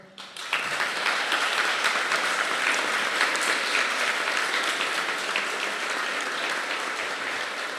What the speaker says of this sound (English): So a hand of applause to them.